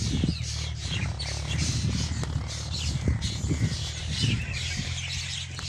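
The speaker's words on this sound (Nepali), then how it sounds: "के को चिरबिर" Small birds chirp and tweet high and scattered over a steady low rumble, with occasional squawks and faint voices in the background, in farm fields during ploughing.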